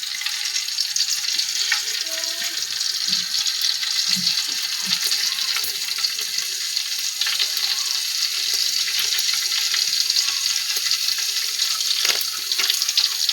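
Cinnamon and cloves frying in hot oil for a mutton curry, a loud, steady, close crackling sizzle throughout with faint scattered clinks.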